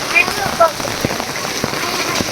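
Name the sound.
heavy continuous rain in Surat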